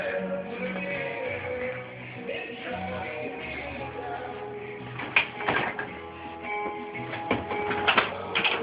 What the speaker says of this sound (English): unloading the dishwasher today